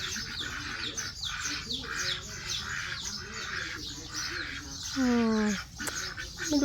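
Ducks quack and chickens and birds chirp in a busy mix, with a louder honking call near the end; a voice talks faintly underneath.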